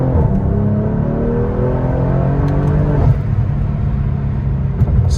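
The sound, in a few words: sports car accelerating hard from second gear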